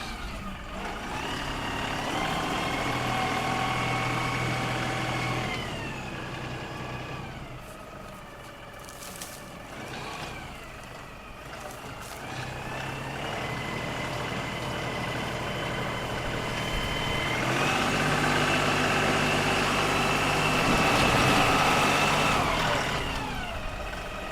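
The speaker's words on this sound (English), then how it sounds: "he just likes to use the tractor to dig up dirt" An LS tractor engine runs steadily while digging up dirt in a potato harvest, a continuous low drone with shifting revs and load changes. It sounds fairly close and carries on without talk.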